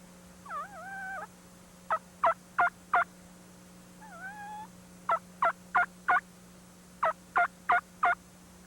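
A man imitates wild turkey hen mating yelps on a mouth call, each whining run followed by sharp, evenly spaced clucks, close and clear over a faint steady hum.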